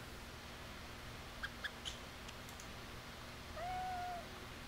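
A cat in the Dragon Age video game gives a few faint, short chirping meows followed by one longer drawn-out meow, quiet over a steady low background hum.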